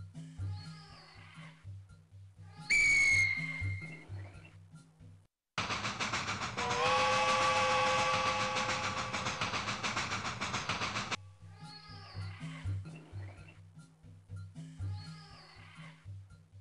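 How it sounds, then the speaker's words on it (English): An underground train in the video game Max and the Secret Formula rumbles loudly for several seconds with steady clattering and a whistle-like tone, framed by quieter game music before and after. "This is a real underground train."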